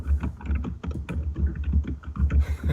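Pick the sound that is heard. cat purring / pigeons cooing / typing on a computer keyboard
typing on a computer keyboard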